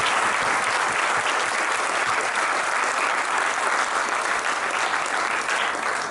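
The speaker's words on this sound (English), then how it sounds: "Let's have another round of applause for them." Audience at a Sri Sathya Sai Baba 98th birthday celebration in Auckland giving applause for the SSC kids' performance, loud, dense and continuous clapping that sustains without pause.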